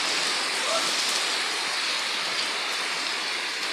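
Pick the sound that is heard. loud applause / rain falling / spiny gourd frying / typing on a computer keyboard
rain falling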